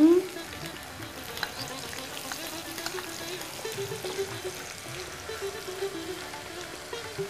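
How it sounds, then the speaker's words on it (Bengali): Onion and garlic frying in a pan for a spinach dish, a soft steady sizzle with faint stirring, running under quiet background noise after a brief sharp sound at the start. "পেঁয়াজ আর রসুনটা একটু ফ্রাই হবে"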